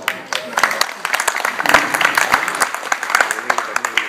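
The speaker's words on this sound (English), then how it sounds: "So you need to give yourself a round of applause." Audience applause at a devotional gathering, a dense patter of many hands clapping steadily throughout, moderately loud, with speech-like sounds mixed in.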